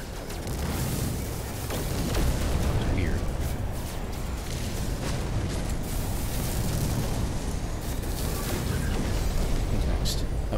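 Ship guns blasting at pirates during a space dogfight in No Man's Sky, a loud, dense stream of booming shots and roaring noise that continues without pause, with someone talking over it.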